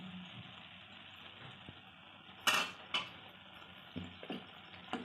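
Chicken salad with corn stirred in a pan, a few distinct scraping clinks of a spoon against metal, spaced irregularly over quiet kitchen background.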